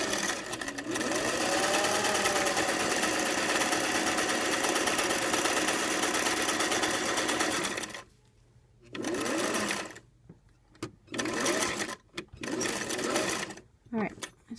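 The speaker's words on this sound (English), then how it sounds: "Alright, I've secured those stitches." A sewing machine runs a long continuous burst while stitching a welt pocket, then stops and restarts in several short, loud spurts, with a voice speaking briefly between them.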